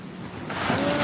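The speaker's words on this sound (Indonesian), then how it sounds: "Ombaknya gede banget." Big ocean waves at the beach wash in with a steady broadband surf rush, building louder toward the end, mixed with wind noise on the microphone.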